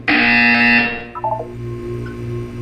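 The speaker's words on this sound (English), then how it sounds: "You will hear a buzzer." Electronic buzzer in the video game Portal 2, a loud, harsh steady tone lasting about a second, then cutting off into a few faint blips over a low hum.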